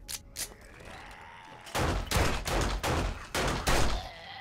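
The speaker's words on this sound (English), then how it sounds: "gotta go pistol. I'm panicking, shooting everything" Pistol shots in 7 Days to Die, two faint cracks followed by a rapid string of loud, close shots fired in panic with brief gaps.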